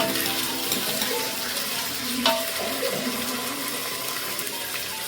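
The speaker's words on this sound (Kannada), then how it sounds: "ನಾನು ಒಂದು ಕೆ ಜಿ ಅಷ್ಟು ತೊಗರಿ ಕಾಳು ಹಾಕ್ಕೊಳ್ಳಿ ಇದನ್ನು ಬೇರೆ ನಿಮಿಷ ಫ್ರೈ ಮಾಡ್ಕೊಳ್ಳೋಣ" Fresh pigeon peas frying in hot oil for a rustic sambar, a continuous close sizzle with a brief clatter near the middle and no talking.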